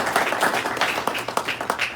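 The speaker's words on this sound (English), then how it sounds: "So thanks for your participation and your rousing applause." Scattered applause from a small club meeting audience, with individual claps popping out irregularly over a softer wash of clapping.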